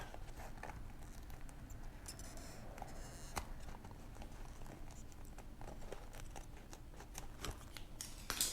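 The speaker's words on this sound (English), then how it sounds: "And now that they're open, I could just make the cut all the way to the top." A rubber shock boot cover on a BMW i8 is cut, producing faint, close snips and scraping rustles in an irregular rhythm, with no talk.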